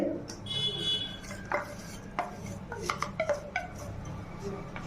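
A spoon stirring and pressing jaggery into ghee in a metal pan, with scattered scraping clinks and taps against the pan at a quiet level.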